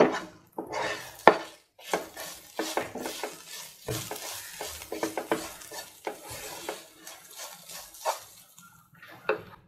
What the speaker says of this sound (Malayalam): ഇനി നമുക്കിത് ഈ മസാലയിലേക്ക് ഇട്ട് കൊടുക്കാം.